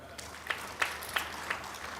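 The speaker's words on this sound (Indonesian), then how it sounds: "Tepuk tangan untuk Pak Rosan." Scattered, light clapping from a crowd, a few sharper claps standing out over a soft hum of room noise.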